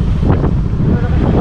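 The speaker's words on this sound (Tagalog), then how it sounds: "Ang lakas ng hangin, guys." Strong wind blasting into the microphone on a motorcycle loop ride in Taiwan, a heavy low rumbling roar that stays loud and constant through the whole short moment.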